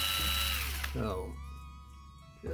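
A drill boring into a die-cast metal casting, a steady loud whirring grind at the start that drops away midway, then a quieter mechanical hum with a brief burst returning at the end.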